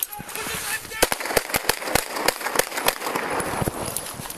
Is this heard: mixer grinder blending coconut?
no